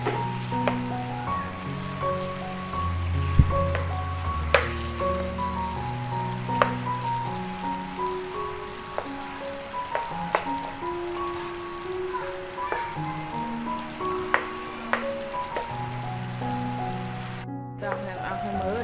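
Bananas fry in a pan for a fried banana dessert with a soft, steady sizzle and occasional pops, heard under continuous background music.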